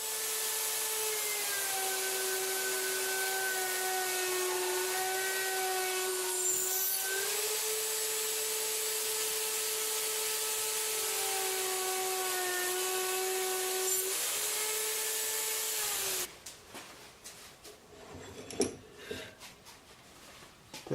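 Mortising machine cutting into wooden stock on a stationary table, a sustained high whining drone with shifting pitch for about sixteen seconds, then rough, irregular cutting and knocking noises, close and loud.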